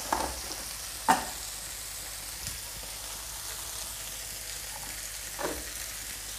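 Fishball sautéing in a pan with ketchup-style kicap sauce sizzles steadily and close, a constant frying hiss broken by a few sharp spatula scrapes and light clinks, with no speech.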